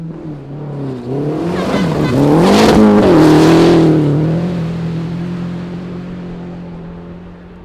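Rally car on a forest stage of the 100 Acre Wood Rally, approaching with rising engine roar, passing close and loud with gear-change revving, then fading into the distance.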